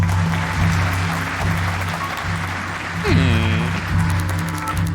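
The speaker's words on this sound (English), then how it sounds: "The audience bursts into applause as the woman behind Lady Amaris steps forward to take a bow." Crowd applause in the video game Bad Faith as an audience greets a woman stepping forward to bow: a broad, even wash of clapping over a low hum, with a short rising tonal swoop partway through.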